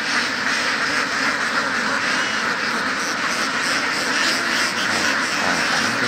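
A large flock of laying ducks on a duck farm quack continuously in a dense, loud, overlapping chorus at close range.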